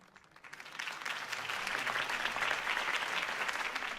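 Crowd applause at a Harvey Dent campaign rally in the Batman Telltale video game, a broad clapping swell that rises after half a second and holds steady and loud to the end.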